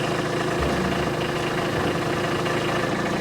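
A tractor engine runs steadily nearby at a construction site during a roof renovation, a continuous low idling rumble with a rough mechanical knock throughout.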